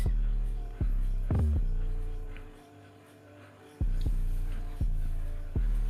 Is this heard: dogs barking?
no